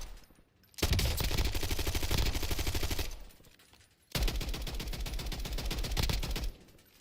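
Sustained automatic gunfire in Call of Duty Black Ops 6 Warzone, two loud dense bursts of rapid shots, each lasting about two to three seconds, separated by a brief lull.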